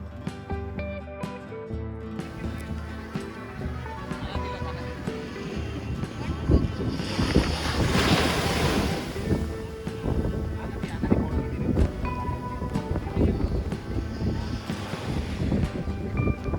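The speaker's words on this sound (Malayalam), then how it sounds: "ഈ തിരമാലകൾ പോലും നമ്മളെ പേടിപ്പെടുത്തുന്നതായി തോന്നും" Ocean waves rolling in and breaking along the shore at Dhanushkodi, a continuous moderate wash of surf with rising and falling swells, mixed with wind noise, and a voice speaking faintly in places.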